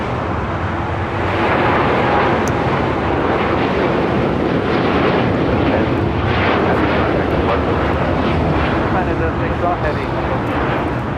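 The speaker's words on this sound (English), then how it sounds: "This is Japan Airlines Flight 61 taking off to Tokyo Narita on a 787-8 Dreamliner" A Japan Airlines Boeing 787-8 Dreamliner takes off at LAX, its jet engines producing a broad, loud, steady roar that persists throughout, with someone talking over it.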